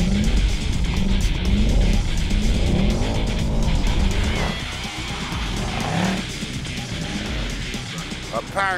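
A Mercedes C63 AMG engine revs hard with tyres squealing and skidding as it drifts around, loud and continuous, with a voice talking over parts of it.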